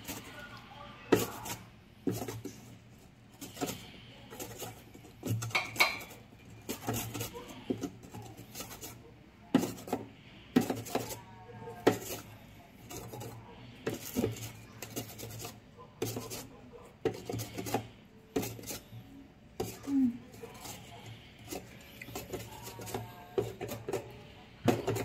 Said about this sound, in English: So this is how I peel the skin.